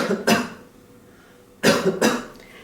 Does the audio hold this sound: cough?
yes